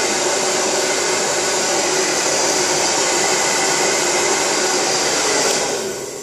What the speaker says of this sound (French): donc vous prenez votre sèche-cheveux